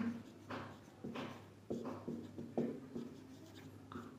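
Pen scratching across paper while a math exponent answer is written out by hand, close and dry, in several short bursts of strokes with brief pauses between them.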